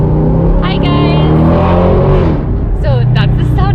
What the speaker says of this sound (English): So that's the sound of our car.